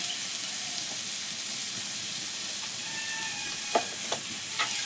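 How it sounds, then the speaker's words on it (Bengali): Onion, garlic, capsicum and carrot frying in a pan make a steady, even sizzle, with a few sharp scrapes of stirring near the end and no talking. "পেঁয়াজ রসুন ক্যাপসিকাম গাজর এগুলো একটু ভালো করে ভেজে নেবো"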